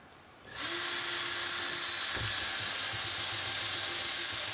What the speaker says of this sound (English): You'll notice I drilled two separate holes here.